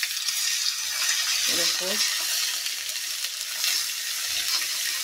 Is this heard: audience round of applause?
no